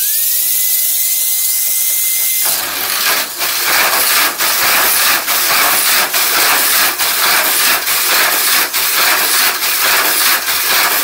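A tuned electric motor in an RC race car runs at about 80% throttle, giving a loud, steady high-pitched whine with a hissy edge. It begins after a quiet moment and carries on with regular rhythmic pulses, close and continuous.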